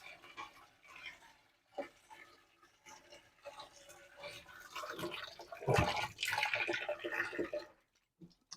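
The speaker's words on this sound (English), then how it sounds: "I like to use this hose to kind of give them a spraying action." A garden hose with its sprayer head missing rinses wet animal hides during a taxidermy tanning process, giving a steady rushing and splashing of water that swells louder midway and stops abruptly near the end.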